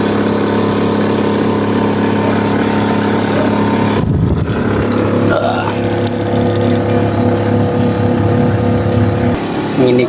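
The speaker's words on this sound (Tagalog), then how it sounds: "Nginig talaga yung compressor mga boss mga bay." A Kolin window-type inverter air conditioner with an H5 error runs its compressor, a loud, steady, vibrating hum with strong low tones, close and continuous throughout with brief shifts in texture.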